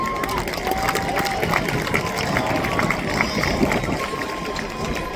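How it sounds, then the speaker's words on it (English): A crowd at a school homecoming court ceremony applauds steadily, its dense clapping running for several seconds with voices mixed in. "Please give a round of applause for both Lily and Andrew."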